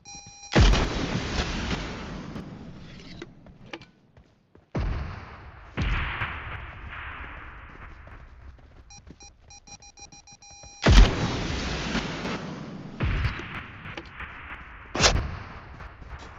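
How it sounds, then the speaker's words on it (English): Gunshots and rocket launches in a first-person shooter video game: a series of loud, sharp booming blasts, a few close together, each trailing into a long rumbling decay, with scattered quieter gunfire in between. "I hear shots"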